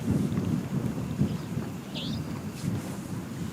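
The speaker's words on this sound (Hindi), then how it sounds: "फिर से अभी तेज तेज हवा बहने लगी।" Strong wind gusting across a cloudy campsite, a steady close roar of rushing air and microphone buffeting with no clear breaks.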